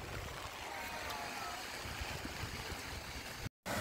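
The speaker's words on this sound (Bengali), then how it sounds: "আর এখানে একটা ছোট ঝর্ণা আছে" A small waterfall in Cherrapunji, Meghalaya, pours in a steady, close, full-bodied rush of water that stays even throughout, cut by a brief dropout just before the end.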